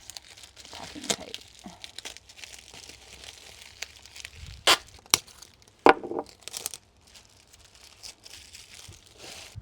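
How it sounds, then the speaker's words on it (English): Packing tape is pulled and handled against plastic sheeting outdoors while onions and garlic are being planted, giving scattered crinkling and a few sharp tearing bursts, close and moderately loud, with light talk in the background. "Packing tape."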